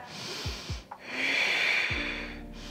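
Heavy breathing during a power yoga flow: close, forceful nasal exhales and snort-like breaths, followed by a long sustained airy exhale, with no talking.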